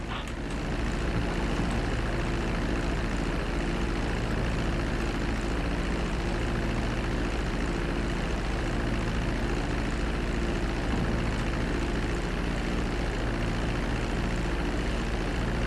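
Airplane engines drone steadily through a landing on a runway in GTA V, a loud, dense and unbroken roar with a low propeller-like hum that holds without pause for the whole stretch.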